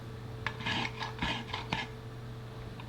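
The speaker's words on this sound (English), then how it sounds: "Now I'm going to try old school shaving the ice." Ice is shaved by hand with an old-style scraper for snow cones, giving a few short, raspy scraping strokes in quick succession over a low steady hum, close and fairly quiet.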